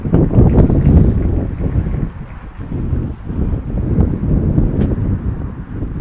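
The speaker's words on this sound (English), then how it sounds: "the wind picks up again. You can hear it in our microphones." Wind buffets the microphones at an outdoor girls' 16U baseball game, a loud, steady low rumble that rises and falls in gusts across the whole stretch with no clear talk.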